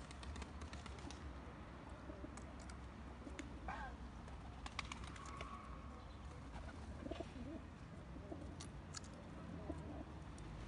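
Soft pigeon cooing drifts in and out over a steady, noisy outdoor background, with occasional faint chirps and a brief flutter, fairly distant and low in level.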